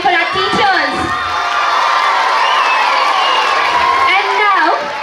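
Children at a Children's Day school event cheer and shout for their teachers, a loud, sustained crowd of young voices whooping with some clapping mixed in.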